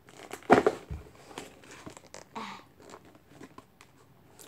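Crinkly plastic packaging of Pokémon toys being handled and opened close by, with a sharp burst of crackling early on followed by quieter rustling and tearing.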